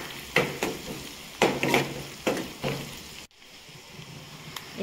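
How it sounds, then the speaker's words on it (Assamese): Turmeric, salt and red chili fry in hot oil while a utensil stirs, giving several bursts of sizzling scrapes followed by a quieter, steady sizzle. "এতিয়া এইখিনি একদম ৰঙচুৱা পৰালৈকে ভাজি থাকিব লাগিব"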